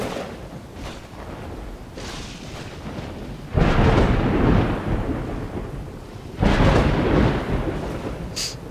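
Thunder rumbling and cracking through a storm in the prehistoric survival game Dawn of Man, with a steady wash of rain underneath and two loud, heavy bursts of thunder a few seconds apart.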